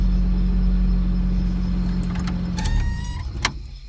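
A Toyota AE86 Corolla engine idling after being started with a worn key: a steady low hum that fades near the end, as a car radio chimes in with brief tones.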